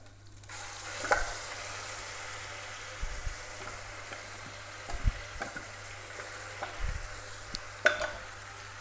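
Tomato and coriander chutney being stirred into a hot fried tempering in a pan, with faint steady sizzling and scattered spoon scrapes and knocks against the metal, fairly quiet and close.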